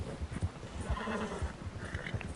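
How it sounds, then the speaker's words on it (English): Horse in the Red Dead Redemption 2 video game whinnying softly amid steady clip-clop hoofbeats, faint and continuous over low background sound. "What is wrong with this horse? Just whining all the time."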